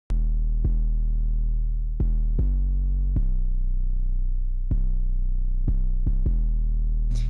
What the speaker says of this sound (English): So the 808 by itself sounds like this.